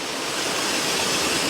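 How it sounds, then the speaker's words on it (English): Steady broadband rush of a waterfall with smaller streams running beside it, a continuous dense wash of falling water close by, even and unbroken with no voices. "The waterfall is front and center of the frame, but I've also got some of these streams coming up on the side as well."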